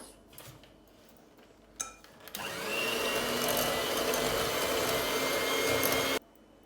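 An electric hand mixer starts with a few clinks and then whirs steadily through cookie batter after an egg is added, a loud close motor drone that cuts off sharply.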